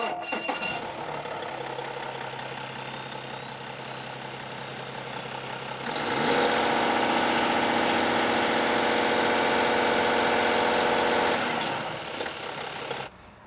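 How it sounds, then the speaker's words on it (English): A Cummins-style ISX diesel engine on a test bench runs at a steady idle, then surges into a louder, harsher roar for several seconds before settling back down, heard alone and up close. "So let's fire up the engine and see what we can do."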